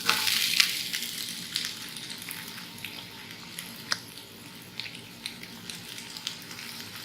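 Onions frying in hot oil in a pan, a steady close sizzle with crackles and a few sharp pops, no voices.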